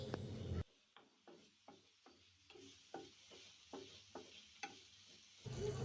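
A spatula stirs chopped garlic and tomato sauce frying in a pan, scraping in about a dozen regular strokes over a soft low sizzle, with louder frying heard briefly at the start and end.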